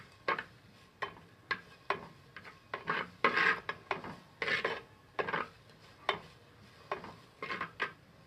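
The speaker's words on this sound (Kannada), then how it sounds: "Gas ಮೆಲ್ಲದಿದ್ದು fry ಮನ್ಪುಲಿ." Onions fry in a clay pot over a low gas flame, with a steady series of scraping, rasping stirs repeating about once a second, close and fairly quiet, with no talk.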